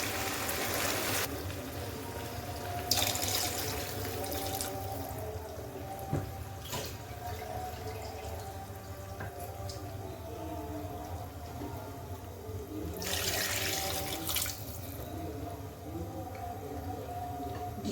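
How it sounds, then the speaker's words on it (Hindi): Water splashes and pours in several bursts into a cooking pot of green peas chicken pulao amid kitchen clatter and background hum, loud at first, then again near the end. "इसमें अब हम पानी ऐड करूँगी।"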